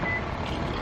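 A car's lock button sets off a short electronic beep, one brief tone over a loud, rumbling street background of traffic and engines.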